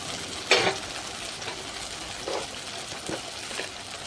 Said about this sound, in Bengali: সর্ষে আর কাঁচা লঙ্কা পেস্ট তেলের মধ্যে ডাইরেক্ট দিয়ে দিলাম